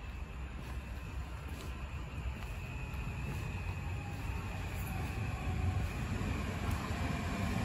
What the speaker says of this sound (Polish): Zbliża się Intercity Daszyński, leci z Warszawy Wschodniej.